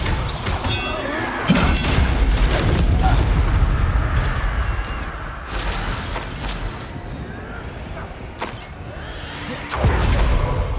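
Booming spell blasts and crashing impacts from the Confringo spell in Hogwarts Legacy, a fantasy video game, fire in bursts over steady rumbling combat noise, loud and close, with spoken voices mixed in.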